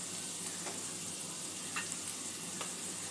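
Poppy seed paste frying with kantola (spiny gourd) in a pan gives a steady, close sizzle with a few faint scrapes, and no one speaks.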